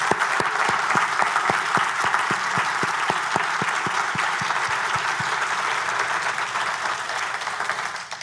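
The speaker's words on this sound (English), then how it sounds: "Can we please have a round of applause for these talented veteran musicians?" An audience applauds warmly, a dense wash of clapping with a few sharp claps standing out, sustained for several seconds before beginning to fade.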